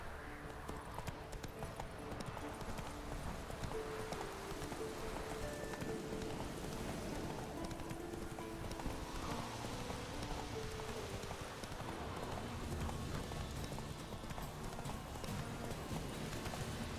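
Horse hooves clip-clop steadily at a gallop through rain in Witcher 3, faint and continuous, with light rainfall beneath and a voice briefly speaking.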